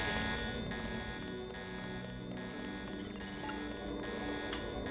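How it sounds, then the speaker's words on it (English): Alarm blaring in the Deus Ex video game, a steady buzzing tone that holds throughout over a dense mix of game ambience, with a brief bright electronic chirp partway through. "The alarm just closed the north door."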